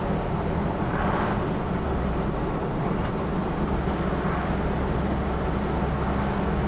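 Inside a 1982 Toyota truck with a 22R engine running down the road, a steady engine drone mixes with road and wind rumble. The noise is constant and loud, with no voices.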